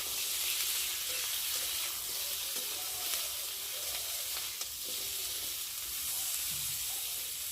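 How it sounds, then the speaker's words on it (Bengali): Potato and plantain pieces frying with salt in a pan, a soft steady hiss and sizzle with occasional gentle stirring clicks, fairly quiet and close, no voices. "আলু আর কলাটা ভেজে নিই।"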